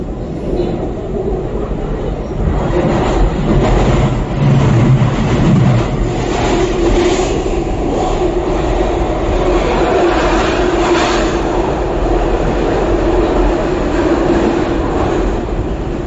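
A SEPTA Market-Frankford Line train rolls between stations on the way toward 8th Street, giving a loud, sustained rumble and rush of wheels on track that holds steady throughout.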